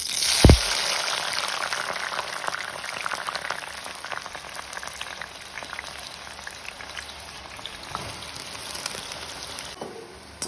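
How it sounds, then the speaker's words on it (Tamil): Eggplant pieces sizzle in hot oil in a pan on a home stove while a Tamil vegetarian curry is cooked, a steady close crackle and hiss with scattered pops and a sharp clatter near the start. "அடுப்பில் சட்டி வச்சு எண்ணெய் விட்டாச்சு கத்திரிக்காய் பொரிக்க போகிறேன்"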